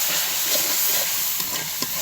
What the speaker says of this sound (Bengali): তার আগে মশলাগুলো কষাই নিচ্ছি একটু, দেখতে পাচ্ছেন